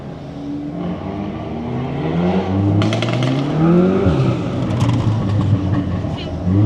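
A straight-piped Audi S3 driving through central London, its raw exhaust droning and rising in pitch as it accelerates, loud and close, with faint crackles and a voice talking over it.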